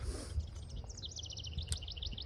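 Outdoors, small birds chirp in a quick series of high, faint tweets over a low, steady background rumble.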